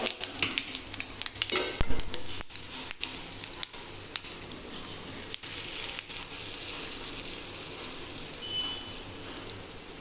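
Fried tempering is tipped into coconut tomato chutney, giving a low, crackly sizzle with scattered pops and ticks that fades gradually over about ten seconds.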